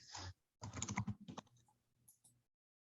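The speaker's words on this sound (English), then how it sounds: "I'll spend a lot of time typing out a dissertation with that" Typing on a computer keyboard during work on a dissertation, a quick run of close, fairly loud key clicks, then lighter scattered taps that fade out.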